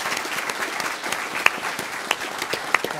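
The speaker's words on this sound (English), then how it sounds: "I would like to give our panel a round of applause here for their time and for their presentation." Audience applause for a conference panel on rightsizing, a steady spread of many hands clapping at moderate level, with a few sharper claps standing out and no talk over it.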